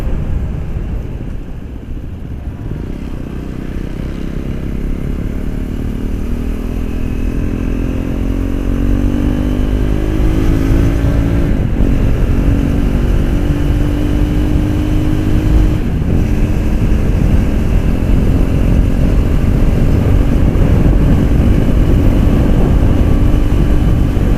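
A KTM 390 Duke fitted with an Akrapovic Moto2 GP titanium slip-on exhaust, its single-cylinder engine note climbing steadily in pitch as it revs and pulls away, loud and continuous with no talking.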